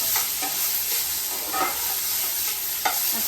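Onion sautéing in a pan for paneer curry, a loud close sizzle with repeated spatula scrapes and stirring strokes in an uneven rhythm, no voices.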